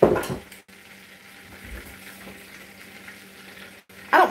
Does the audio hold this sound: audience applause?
no